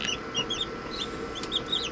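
Newly hatched chicks in an incubator peep continuously, with high, thin chirps overlapping close by against a steady low background hum.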